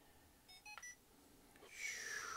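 A Feiyu Tech phone stabilizer switching on gives a few quiet, short electronic beeps in quick succession, then a brighter rising tone, against soft room quiet.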